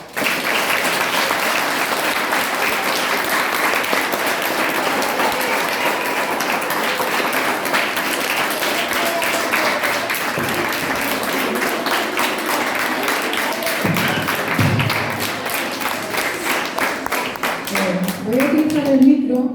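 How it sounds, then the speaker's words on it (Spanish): A school audience at a primary school breaks into sustained, dense applause, many hands clapping steadily for a long stretch before tapering as a voice begins near the end. "volvamos a darle otra fuerte aplauso"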